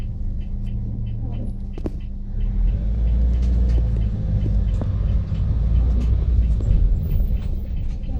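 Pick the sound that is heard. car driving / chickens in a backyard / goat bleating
car driving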